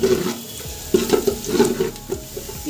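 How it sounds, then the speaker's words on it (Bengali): Onions frying in a pan until golden for a Bengali duck curry, a moderate sizzle broken by repeated scraping stirs and a few clinks, with no talking. "পেঁয়াজটাকে একদম সোনালি করে একটু ভেজে নিব"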